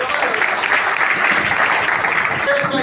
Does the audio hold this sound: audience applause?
yes